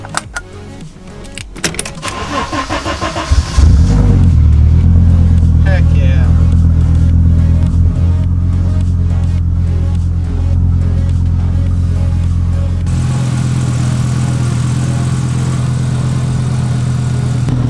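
A track-build Audi C4 S4 cranks and fires up, then settles into a loud, steady idle with some revving, close by and continuous.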